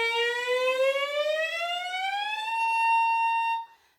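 A single bowed violin note glides steadily upward in pitch as the string is shortened, bright and close, then stops abruptly after a few seconds.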